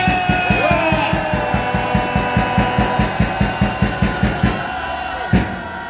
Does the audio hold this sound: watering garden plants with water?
no